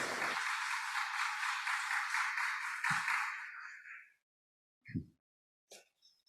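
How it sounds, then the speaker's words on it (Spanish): Audience applause for the authors at a book colloquium ceremony, a dense, steady wash of many hands clapping for about four seconds before fading out, followed by a few isolated thumps and small noises. "Por favor, un aplauso para los autores."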